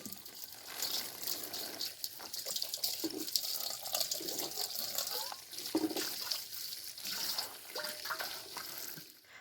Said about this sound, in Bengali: ও এখানে বসে মুখটাও ধুয়ে নিচ্ছে।